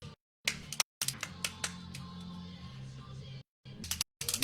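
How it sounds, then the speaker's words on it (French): Scattered hand claps come in short bursts from a few people at a live French blind test show, broken by abrupt silences, with background voices underneath. "On peut l'applaudir"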